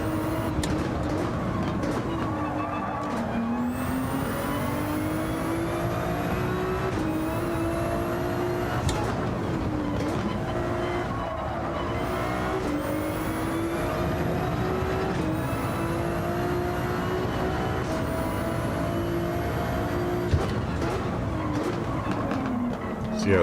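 Race car engine in Gran Turismo 7, droning steadily and rising through the revs with repeated gear shifts as laps go by, loud and continuous throughout.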